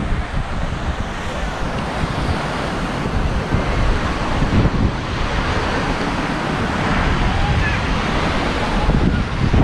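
Surf breaking at a busy Hapuna Beach on Hawaii's Big Island, heard as a steady, loud wash of waves with wind buffeting the microphone throughout.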